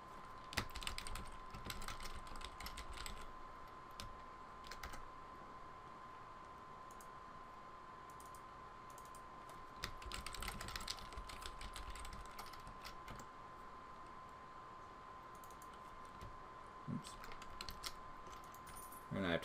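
Typing on a computer keyboard during work on a photography and image-manipulation assignment; quiet, irregular bursts of close key clicks with pauses, over a faint steady background hum.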